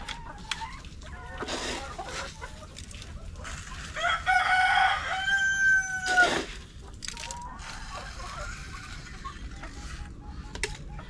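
Dekalb Brown laying hens on a farm, being given layer feed, cluck steadily at close range while a rooster crows clearly in the middle, with soft background noise throughout.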